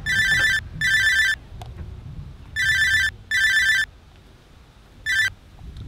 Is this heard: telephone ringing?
yes